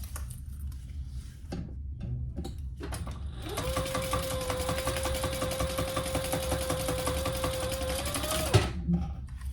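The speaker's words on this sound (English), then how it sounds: "now I'm going to pull those right sides or wrong sides together and top stitch" A sewing machine top stitches a hot pink fabric waist pack: after a few short bursts of handling, the motor hums steadily at close range for about five seconds with a rapid needle patter, then stops.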